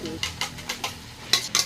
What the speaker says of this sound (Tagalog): Ito na yung alamang para maluto na rin.